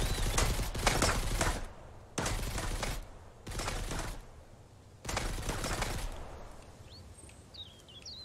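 Bandits shooting in Mist Survival fire in four long, loud bursts of rapid gunfire broken by short pauses, then the firing stops and faint birdsong remains.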